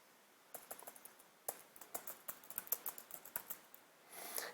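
Lesson plans being typed on a computer keyboard, quick bursts of crisp key clicks in irregular runs with short pauses, close and fairly quiet, no voices.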